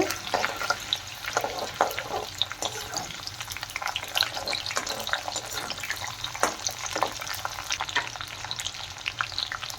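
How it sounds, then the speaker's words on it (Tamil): Chopped ginger and garlic sizzle in oil with steady crackling and intermittent scraping as they are stirred, moderately close. "இஞ்சி பூண்டு நல்லா வதங்கிடுச்சு"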